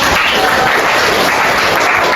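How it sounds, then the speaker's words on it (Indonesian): A classroom of students claps together in a steady, close, loud burst that holds evenly for a couple of seconds. "Tepuk tangan dong untuk"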